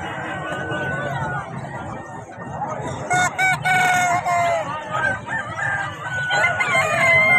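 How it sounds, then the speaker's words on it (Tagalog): Roosters crow and chickens cluck at a Bocaue pet market, several overlapping crows rising over a steady hubbub of crowd chatter and market noise. "Meron din tayo ng manok dito."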